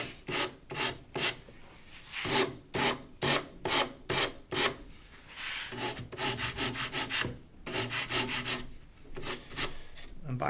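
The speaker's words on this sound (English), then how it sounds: "you get a piece of sandpaper and you create what are called bevels on the corners of the legs" Sandpaper rubbed over the corners of wooden shelf legs to make bevels, a close, quiet run of rhythmic rasping strokes, steady back-and-forth in quick bursts.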